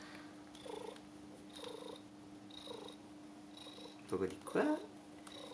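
A cat purrs steadily during a blood draw at the vet, a soft continuous low rumble running under nearby voices talking throughout.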